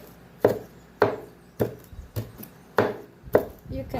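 Knife strikes on a board while chopping shadow benny and other seasoning for Trinidadian smoke herring and carrots: about seven crisp, evenly spaced chops, close and clear with short pauses between them.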